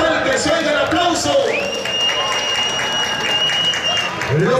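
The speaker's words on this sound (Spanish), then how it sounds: "que se oiga el aplauso" Applause rises from the crowd at a bull-riding tournament on a ranch, a steady wash of clapping with a long, piercing whistle held over it and voices mixed in.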